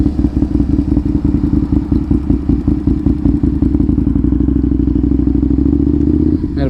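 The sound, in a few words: Aprilia motorcycle engine revving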